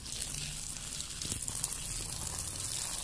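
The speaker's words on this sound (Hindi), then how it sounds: "तो इसमें थोड़ा सा पानी और डाल देंगे" Water poured onto a dry coco peat block for planting seeds, giving a soft, steady hiss and trickle that runs throughout at low volume, close by, with no talking.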